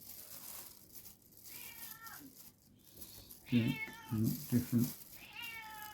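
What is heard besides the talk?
cat meowing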